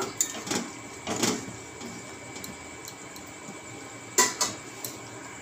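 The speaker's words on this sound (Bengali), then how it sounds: "এতে আমি 1 টিস্পুন লবণ দিয়ে দেব। এবার ভালোভাবে নাড়াচাড়া দিয়ে নেব।" A spoon scraping and clinking against a pan while maharani chicken is stirred with salt, a few sharp metallic knocks clustered near the start and again later over a soft background hiss.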